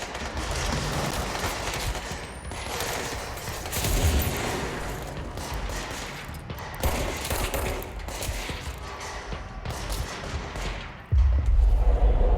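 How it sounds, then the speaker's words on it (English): Gunfire in the video game Control crackles in dense, overlapping bursts like a fusillade, a steady mid-distance volley with a few louder shots near the end. "There is some gunfire going on over there."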